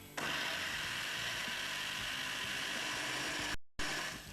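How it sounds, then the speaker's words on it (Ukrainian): A kitchen blender whirs steadily while pureeing fruit, a loud continuous motor drone with a brief cut-out near the end before it resumes, running alone without talk. "І просто вмикаю блендер."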